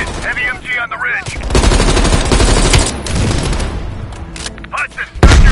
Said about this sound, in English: Hudson, heavy MG on the ridge.